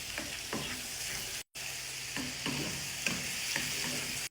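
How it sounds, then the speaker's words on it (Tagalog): Shrimp fry in butter in a hot pan with a steady broadband sizzle and a few stirring clinks, close by, with a brief dropout partway through. "ipiprito na natin yung shrimp"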